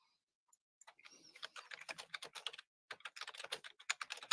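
Rapid bursts of typing on a loud clicky computer keyboard, close and crisp, with a short pause midway before the keystrokes resume.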